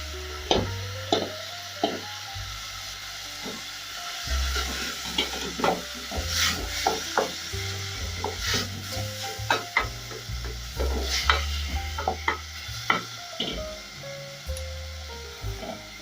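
Capsicum and coriander stems sizzle in a pan for a curry while a spoon stirs and scrapes them, producing repeated clacks and shuffles over a steady low hiss, close and without speech.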